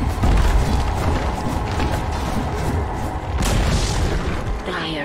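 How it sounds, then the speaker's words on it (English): A tower crumbles in Dota 2 with a loud, dense boom and crashing debris that rumbles on for several seconds, with a second surge of crashing near the end. "Dire's bottom tower has fallen"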